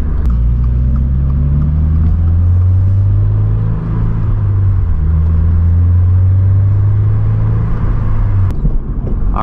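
A lowered 2022 Subaru BRZ on BC Racing coilovers drives in second gear around a roundabout, its engine a loud, close, steady low drone and rumble with slight pitch shifts, no talking.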